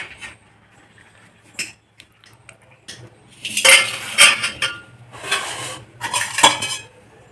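Cooked rice for a mutton biryani is spooned into a pot over a layer of fried onions, giving scraping, clattering utensil-on-pot bursts that grow louder in the second half, with no talk.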